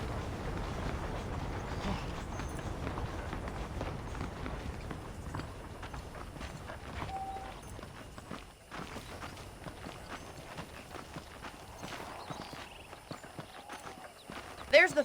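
Horse hooves clip-clop at a steady walking rhythm in Red Dead Redemption, moderately loud and continuous, with in-game voices talking over much of it and ambient background noise.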